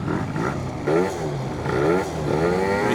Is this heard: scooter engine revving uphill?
yes